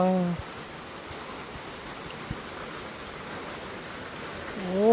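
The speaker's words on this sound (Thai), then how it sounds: "ฝนตกฝนตก" Steady rain falls outdoors in a rural setting in Laos, a continuous close wash of drops with a brief voice at the start and end.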